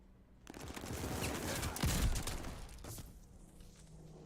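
Gunfire, including shotgun blasts, in a first-person shooter video game: a sustained, loud stretch of rapid shots that swells in the middle and then fades out.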